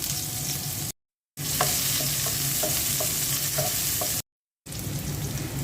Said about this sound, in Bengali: মাছ ভাজা তেলের মধ্যে পেঁয়াজ কুচি দিয়ে দিলাম